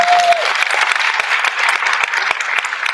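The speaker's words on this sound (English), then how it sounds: "big round of applause for everyone" Audience applause at an autism talent show, a dense steady wash of clapping hands filling the room for about three seconds, with a brief whistle at the start and no speech over it.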